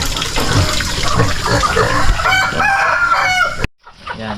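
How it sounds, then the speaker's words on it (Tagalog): Chickens cluck busily up close with a rooster's crow rising among them, then the noise cuts off briefly before faint clucking resumes. "Nakikisalo rin yung mga manok."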